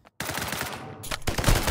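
Gun firing in the mobile shooter game Lost Light, a short burst of loud automatic fire that starts abruptly after a brief silence, a fast rattling stream of shots close up.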